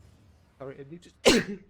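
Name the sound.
sneeze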